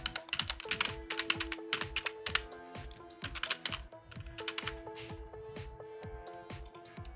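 Quick, irregular keystrokes on a computer keyboard come in short bursts of clicking, close and crisp, as text is typed into a code editor, with no speech.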